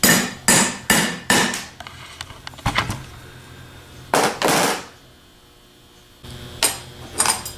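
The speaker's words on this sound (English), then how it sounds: "Just hit it with the round side of your ball peen hammer and bust it out." Ball peen hammer knocking out the clip that holds a pivot bar in place, several sharp metallic strikes in quick bursts with pauses between, close and loud, no talk.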